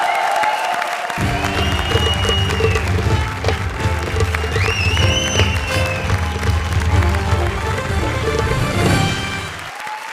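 A studio audience applauds steadily on the stage of a Comedy Circus comedy show, the clapping sustained for about nine seconds beneath loud music, then cutting off at the end.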